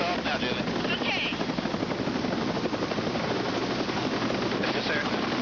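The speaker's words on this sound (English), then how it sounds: "Lift off now, Julie." A rescue helicopter lifts off carrying a patient to the hospital, its rotor and turbine roar steady, loud and close throughout, with voices faintly mixed into the din.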